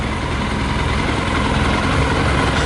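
A Yamaha motorbike engine idling on half a litre of whisky in the tank, a dense, steady, continuous running drone close by with no talk.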